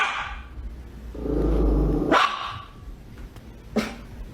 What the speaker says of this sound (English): The video starts off showing nothing more than a woman's dog barking at what appears to be nothing.